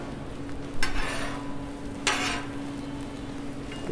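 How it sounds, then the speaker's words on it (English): Chopped Thanksgiving leftovers cook in butter on a Blackstone griddle, giving a quiet, low sizzle with two brief bursts of spatula scraping over a steady background hum. "Let it cook in that butter a little bit"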